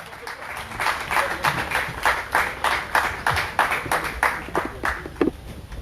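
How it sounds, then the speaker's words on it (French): A crowd claps continuously at a firefighters' congress medal presentation, steady rhythmic applause from many hands filling the space, no voices standing out. "Sous vos applaudissements,"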